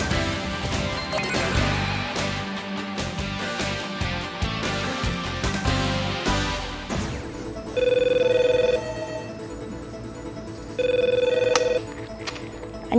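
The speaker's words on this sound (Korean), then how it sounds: "제품 사용법을 묻는 고객들의 전화가 빗발치기 시작했다" Office telephones ring amid a busy mix of clatter and background sound, then two distinct steady electronic rings sound later, each lasting about a second, clear and fairly loud.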